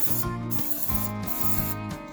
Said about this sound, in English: Get your spray glue.